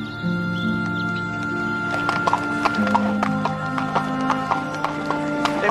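A horse clip-clops at close range, its hooves striking in an irregular rhythm, with a whinny at the start, over sustained tonal background sounds.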